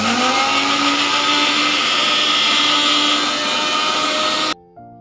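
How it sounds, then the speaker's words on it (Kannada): A mixer grinder whirs loudly and steadily as it blends fruit with added milk into a milkshake, a continuous high motor roar that cuts off abruptly near the end. "ಮತ್ತೊಮ್ಮೆ ಗ್ರೈಂಡ್ ಮಾಡ್ತೀನಿ."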